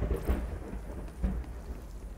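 Thunderstorm in the video game The Cycle: Frontier, with steady rain and low rumbles of thunder swelling twice, moderately loud with no voices.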